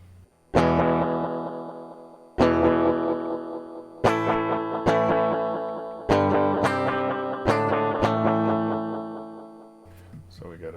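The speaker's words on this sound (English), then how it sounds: "let's turn the delay all the way up just for fun" A guitar run through a rare Canadian pedal with its delay turned all the way up, sharp strummed chords each followed by dense, sustained repeats that smear together into a ringing wash, played loud and up close.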